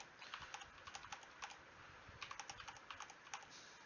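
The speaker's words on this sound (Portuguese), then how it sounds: "eu vou digitar qualquer coisa rapidão" Quick typing on a computer keyboard, a steady run of light, close clicks in short bursts with a brief pause midway and no voices.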